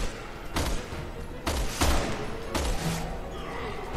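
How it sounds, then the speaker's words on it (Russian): Sniper rifle shots in the Resident Evil 6 video game: three sharp, booming reports spaced about a second apart, each with a ringing decay, over faint game background. "Сейчас я со снайперки."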